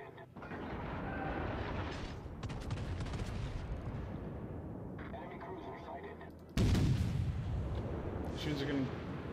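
Heavy battleship guns boom in World of Warships, a loud sustained barrage with rumbling reports and a sharp louder blast near the end, while someone talks over the gunfire.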